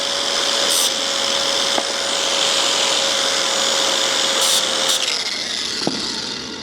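A power tool cuts pieces of stainless steel in a steady, loud, unbroken grinding whine with a high metallic edge, briefly shifting near the end.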